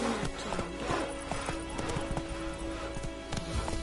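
Roach, Geralt's horse in the video game The Witcher 3: Wild Hunt, clip-clops at a steady gallop with a brief whinny, the rhythmic hoofbeats loud and close over a constant game ambience.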